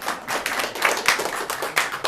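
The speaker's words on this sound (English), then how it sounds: "Smattering of applause." A scattered smattering of hand claps from a small theatre audience at a Dickens-themed evening show, sparse and uneven, with a few separate claps standing out over about two seconds.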